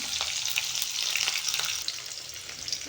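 Garlic and green chillies fry in a pan for fish curry, giving a loud, dense, continuous sizzle with occasional scrapes of stirring.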